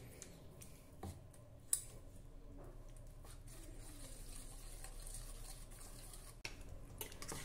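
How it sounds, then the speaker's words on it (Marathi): A ladle mashes soft-cooked urad and chana dal in a pot, making quiet, soft scraping and stirring sounds with a few light knocks, close and faint, with no talking. "आता डावाच्या साहाय्याने आपण ही जरा अशी घोटून घेऊ"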